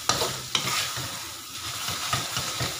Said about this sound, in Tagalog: tapos haluin lang nga naman natin